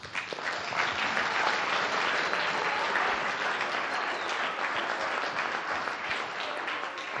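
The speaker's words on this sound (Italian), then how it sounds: "Quindi sicuramente un applauso va a loro" An audience at a televised sports evening applauds in steady, dense clapping that holds at an even level for several seconds without pause.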